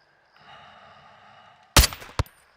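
Two sharp, loud sniper gunshots in the video game Call of Duty: Modern Warfare 2 ring out in quick succession after a faint low hum, the second shot shorter than the first.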